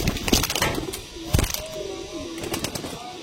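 Andhra pigeons at a sale coo in soft low notes, with a few sharp flutters or wing claps breaking in near the start and middle.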